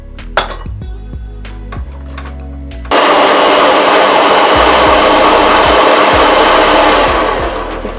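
An electric mixer on low speed beats chocolate cake batter with salt, baking powder and baking soda; a few clinks come first, then a loud, steady whirring drone that holds and fades slightly at the end.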